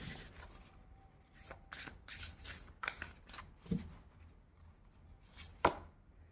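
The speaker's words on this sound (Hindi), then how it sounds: "अभी हम 2 कार्ड और निकालेंगे दूसरे डेक से" A deck of tarot cards being shuffled during a card reading, several quick riffles and soft flicking bursts at close range, fairly quiet with pauses between them and no talking.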